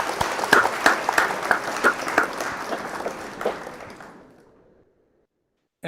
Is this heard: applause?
yes